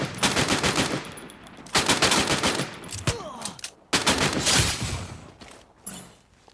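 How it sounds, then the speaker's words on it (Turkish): Bursts of M60 machine gun fire in a multiplayer shooter video game, three long rapid-fire strings with short pauses between them, loud and close, with a fainter shot or two near the end. "Oy arkadan M60 da vuruyor biri"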